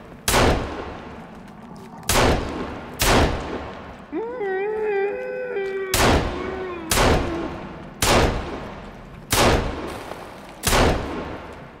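Sharp, loud gunshots ring out in a video game shooter at roughly one-second intervals, each with a short echoing tail, and a warbling tonal cry rises briefly between shots midway through.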